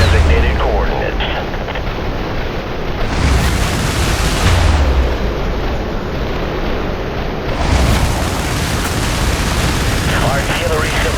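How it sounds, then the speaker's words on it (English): Artillery fire and explosions rumble during an airstrike in the harbor level of the video game IS Defense, a loud, dense barrage of booms rolling continuously with periodic heavier blasts. "Airstrike approaching to designated coordinates."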